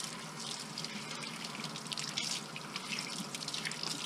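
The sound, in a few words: water rinsing an LED light bar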